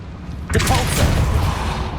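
Depulso spell cast in Hogwarts Legacy inside a small mine, a sudden booming magical blast that hits at once and rumbles on with a dense low thump and crackle.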